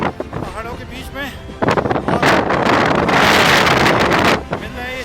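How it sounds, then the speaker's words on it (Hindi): Strong wind gusting over a river in the Kali valley among mountains, roaring loudly against the microphone in sustained bursts after an opening stretch of talk. "काफ़ी तेज हवा चल रही है हम लोग पहाड़ों के बीच में।"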